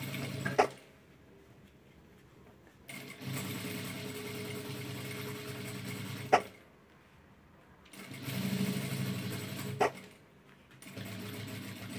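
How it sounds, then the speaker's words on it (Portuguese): A sewing machine stitches a bag in three steady running bursts separated by short pauses, with sharp clicks as the presser foot is set down between seams; no one talks. "abaixo o pé calcador e continuo a minha costura."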